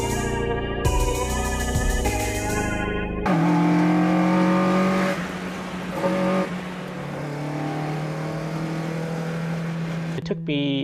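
A restored car's engine with forged pistons, oversized stainless steel valves and a stage 4 cam, making roughly 185 horsepower, revs up and down in loud swelling bursts with shifting tones.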